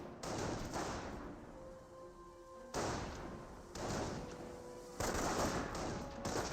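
Panzer Grenadier squads trade fire in the World War II strategy game Company of Heroes, with bursts of rapid rifle and machine-gun fire and thudding shots in several loud volleys separated by short quieter gaps.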